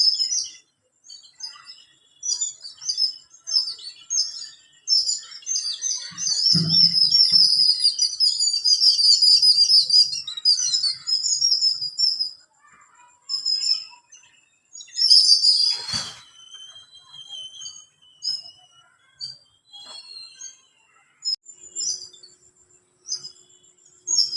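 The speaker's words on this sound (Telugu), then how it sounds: "ఉదయానికి ఇలా పెరట్లోకి వచ్చేసరికి అయితే పక్షులు అయితే చాలా వచ్చాయి" Many birds chirp and twitter in a backyard in the morning, high bright calls in bursts near and far, with a brief flutter partway through and no voices.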